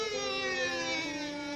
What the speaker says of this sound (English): The police car came down the street.